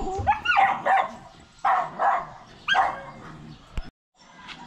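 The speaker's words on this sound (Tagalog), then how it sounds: "Ingay na aking mga aso" Several dogs bark in quick bursts, loud and close, with yips and whines between the barks and a short pause near the end.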